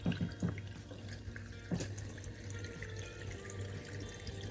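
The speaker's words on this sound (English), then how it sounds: "you drain all of the water out from the machine" Water runs and splashes steadily out of the drain of a mini washing machine nearby, with a few sharper gurgles and knocks at the start.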